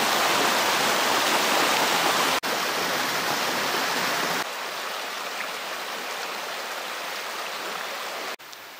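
Water cascades down a waterfall and stream in the Monts d'Arrée, a loud, continuous rushing roar that drops slightly in level partway through.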